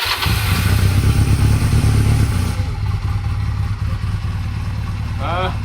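A 2003 Honda Rebel motorcycle engine runs out of gear without its throttle hooked up, a steady close idle rumble under people talking.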